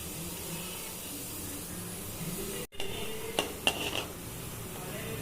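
Mustard seeds and cumin frying in hot oil in a home kitchen, a soft steady hiss with a few sharp crackles and pops after a brief cut, close and fairly quiet, with no voices.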